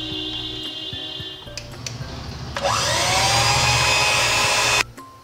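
Electric blender mixing tender coconut ice cream switches on partway through with a rising whir and runs steadily loud before cutting off, following a quieter background hum.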